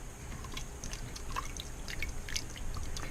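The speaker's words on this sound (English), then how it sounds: "Broth is going in. I'm going to deglaze the pot." Broth poured into an Instant Pot to deglaze it while making mixed mushroom risotto, a soft continuous liquid splash and dribble with scattered drips, close and moderately quiet, with no talking.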